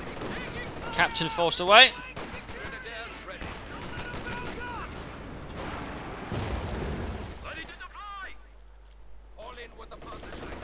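Gunfire crackles through a Company of Heroes 2 one-versus-one match between an OKW and a US army, with bursts of small-arms fire and rumbling impacts under a caster's commentary and radio-style unit voice lines.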